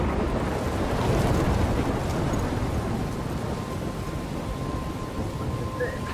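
A thunderstorm in the game Life is Strange, a dense wall of heavy rain and rolling thunder. It is loud and continuous throughout, with a gusty, roaring texture and no talking.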